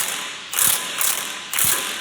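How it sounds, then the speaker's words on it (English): A pneumatic impact gun works a stuck nut on a turbocharged Jeep Wrangler, firing three short, loud rattling bursts about half a second apart in a garage. "All right, we got the impact gun on the other side."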